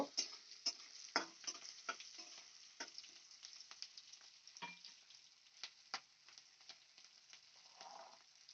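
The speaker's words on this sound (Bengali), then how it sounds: "ফোড়নে দিয়ে দেব আমি পাঁচ ফোড়ন ফোড়নটা আমি একটু ভেজে নেব" Panch phoron whole spices frying in hot oil with slit green chillies: a faint, crackling sizzle full of small rapid pops and ticks, steady and close, with no speech.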